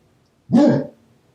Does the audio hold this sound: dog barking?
yes